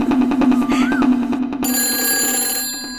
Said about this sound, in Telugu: ఫోన్ ఆగకుండా మోగుతూనే ఉంది